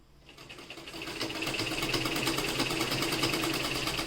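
A sewing machine starts stitching a garment placket. Its steady rapid needle chatter builds quickly and then runs on continuously, close and unbroken.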